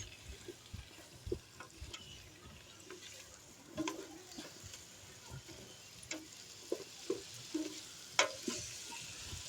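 Young garlic greens sautéing in a pot: a quiet, low sizzle under scattered light taps and scrapes of stirring, faint and close, with no voices.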